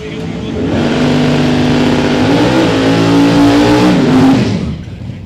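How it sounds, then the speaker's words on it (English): A 1965 twin turbo Pontiac-powered GTO drag race car runs loud and close at a drag strip, its engine droning steadily and rising in pitch before cutting off, with an announcer talking over it. "Richard Guido, wheeling the 1965 twin turbo Pontiac powered"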